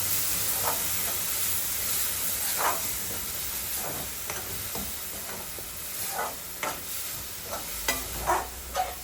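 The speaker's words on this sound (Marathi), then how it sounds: "तर आता मी त्याच्यामध्ये टोमॅटोची जी आपण पेस्ट करून घेतलेली आहे ती मी त्याच्यात घालते आणि ती सगळीकडे मिसळून घेते आधी" Tomato paste being stirred into a hot, sizzling pan on a stove, a continuous frying hiss broken by repeated scraping strokes of a spoon that grow more frequent toward the end, with no talk.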